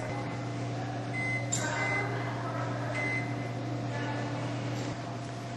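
Short electronic beeps from a microwave oven as its timer is set, several brief tones spaced over a few seconds above a steady low appliance hum.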